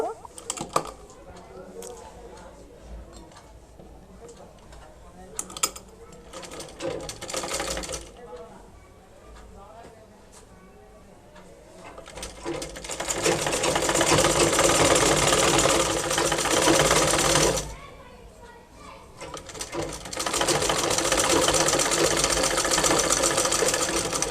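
A sewing machine stitches a khimar hijab, starting after a stretch of quiet handling and then running loud and steady in two long runs with a brief stop between them.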